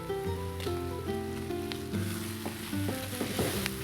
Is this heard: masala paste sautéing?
yes